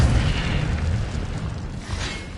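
An Incendio fire spell is cast in a Harry Potter video game, producing a loud, dense whooshing burst of flame with a deep rumble that fades slightly over about two seconds, with no voices.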